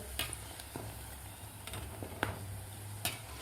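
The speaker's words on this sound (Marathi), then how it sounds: "असा गोल्डन कलर होईपर्यंत आपल्याला या पुऱ्या तळायच्या आहेत" Spicy jowar flour puris deep-frying in hot oil, a steady low sizzle and bubbling with occasional sharp crackles and pops throughout.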